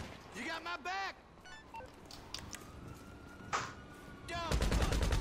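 Rapid machine gun fire in the video game GTA 5 bursts out loudly near the end, a dense run of regular shots after stretches of game sounds and players talking.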